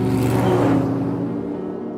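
A Morgan sports car roars past close by, a loud broadband rush with low engine rumble that peaks early and then fades as it moves away.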